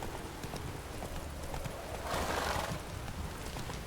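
A horse in The Witcher 3 canters with quick rhythmic hoofbeats, and a snorting whinny rises briefly midway over a steady outdoor background.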